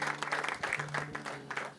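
A crowd at a birthday celebration in a church hall applauds in a quick burst of steady, close clapping, with a sustained tone underneath.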